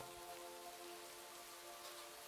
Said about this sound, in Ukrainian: Дощ монотонно наспівував щось своє, як буддійський монах у безкінечній медитації.